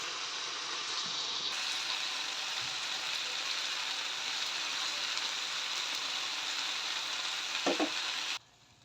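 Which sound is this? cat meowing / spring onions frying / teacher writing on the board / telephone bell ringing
spring onions frying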